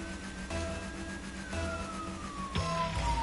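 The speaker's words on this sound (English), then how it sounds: "That's a great siren." A siren sounds in the Rocket League video game, a steady electronic tone that slowly falls in pitch over a few seconds. It rises above a constant layer of game engine and crowd noise and stays loud throughout.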